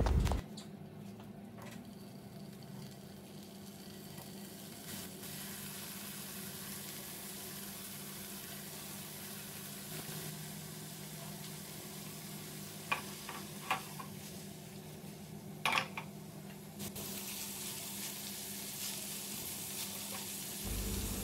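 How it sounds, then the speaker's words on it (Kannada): Paneer cubes fry slowly in butter in a pan with a faint, steady sizzle, broken now and then by a few sharp ticks and clinks, and no voices. "ಇದನ್ನೀಗ ನಾನು ನಿಧಾನವಾಗಿ ಒಂದು ಪ್ಯಾನಲ್ಲಿ ಒಳ್ಳೆ ಬಟರ್ ಹಾಕಿ ಫ್ರೈ ಮಾಡ್ಕೊಳ್ತೀನಿ"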